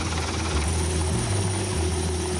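A helicopter descends toward the deck of a French Navy amphibious assault ship, its rotor and engine producing a loud, steady, continuous drone with a low rhythmic throb that shifts slightly in pitch as it comes down.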